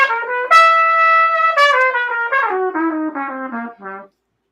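Trumpet plays an accented jazz etude phrase of eight-note rhythms from the 2022-2023 Jazz All-State set, solo and close, with bright sustained and punchy tongued notes descending over about four seconds before stopping.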